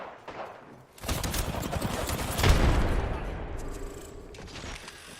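Apex Legends gunfire: a sustained, dense volley of rapid shots that swells to a loud peak midway and then tapers off, with a voice speaking over the combat.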